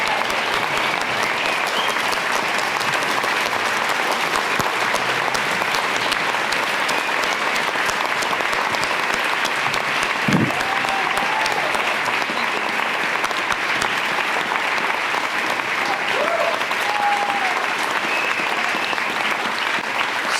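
An audience at a talk on protecting women and girls in sports gives a long, loud, steady round of applause that fills the room without pause, a faint voice briefly rising above it.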